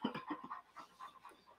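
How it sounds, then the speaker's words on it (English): A dog pants quickly and rhythmically close by, a steady run of soft breathy huffs at a low level, with no talk. "can I hear the dog? You can, how can you not hear her?"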